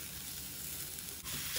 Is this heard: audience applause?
no